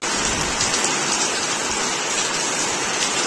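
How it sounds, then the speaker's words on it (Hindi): Heavy rain pours down steadily in a dense, even hiss with no letup, loud and close throughout, with no voices. "बहुत ही जोरों से बारिश हो रहा है"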